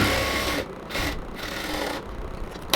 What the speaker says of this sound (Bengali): তারপর আমরা সেলাইটা করতেছি